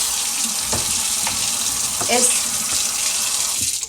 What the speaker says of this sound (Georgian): ეხა კარგად გავრეცხავ და მე პირამდე წყლით დავფარა.